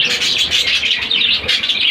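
Pet budgies in a cage chirp continuously while eating soft food, a dense, high twittering chatter from several birds heard close and fairly loud, with no talking.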